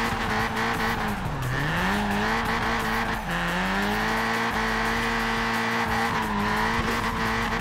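A VW Golf Mk1 with drift suspension slides through a drift in Forza Horizon 4, its engine droning steadily while tyres squeal continuously, the pitch dipping and rising with each slide; loud and close, no talking.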